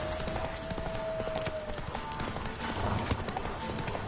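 Roach, a horse in The Witcher 3: Wild Hunt, gallops with a steady, rapid clip-clop of hooves, moderately loud and continuous, alongside game ambience.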